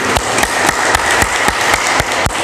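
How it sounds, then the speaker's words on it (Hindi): At a women's day yoga celebration, a group of women claps loudly and steadily in a rhythmic pattern, with regular sharp beats over a dense wash of hand claps. "तालियों की गूंज वहाँ तक जानी चाहिए जो आपकी बहनें अभी तक पहुँची नहीं है"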